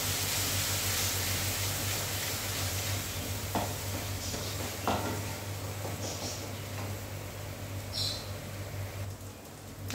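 Spices and coriander sizzle in a hot pan with a steady hiss, while a few soft scrapes and taps from stirring come through the frying noise.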